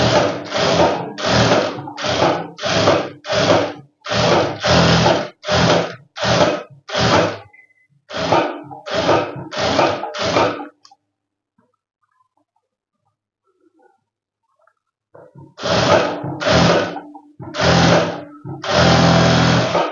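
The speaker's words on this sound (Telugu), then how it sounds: "లోపల సైడ్ నెక్ మీద వేయండి కుట్టు" A sewing machine stitches a full-circle long frock in loud, rapid bursts, pausing for a few seconds mid-way before another run of stitching starts up close.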